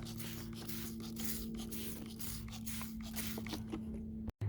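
Steady hiss of a sprayer misting copper fungicide onto an Asian pear tree, continuous and close for about four seconds, over a low motor-like hum, cutting off abruptly at the end.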